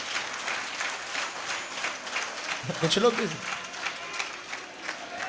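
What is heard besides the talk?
audience clapping at a religious gathering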